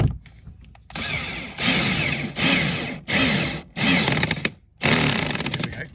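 A cordless drill drives screws in a series of short bursts, whirring up and stopping about six times in quick succession, close by.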